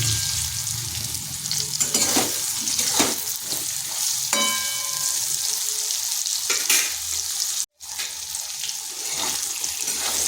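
Raw green banana pieces being stirred and fried in hot oil in a pan, giving a steady close sizzle with repeated scraping stir strokes throughout and a brief dropout near the end.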